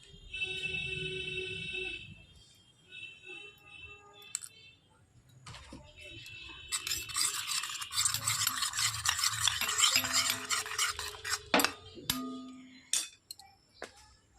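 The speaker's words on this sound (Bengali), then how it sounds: "আর আমি আলাদা করে একটা বাটিতে মশলা অল্প জল দিয়ে গুলে নিলাম।" Spices mixed with a little water being stirred in a bowl for a fish and bean dish, a steady scraping and swirling with clicks, close and fairly loud, ending in a few sharper knocks.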